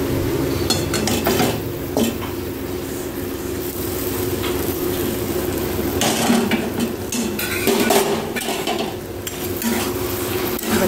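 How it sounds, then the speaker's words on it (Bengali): Spinach and fried lentil dumplings (bori) being stirred in a cooking pot, with steady scraping and clinking of a utensil against the metal and a soft simmering sizzle underneath, continuous throughout and close by, with no talk. "শাকটাকে ভালো করে আমি নেড়ে নেব"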